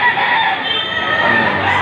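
Chickens and roosters at the Padre Garcia buy-and-sell livestock market crow and cluck together in a loud, continuous chorus, several birds overlapping nearby.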